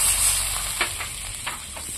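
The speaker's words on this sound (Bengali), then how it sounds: "এবার আমি জল ঢেলে দিচ্ছি।" Water poured into a hot pan of fried chillies, giving a steady hissing sizzle with a few sputtering pops, close and fairly quiet, no talking.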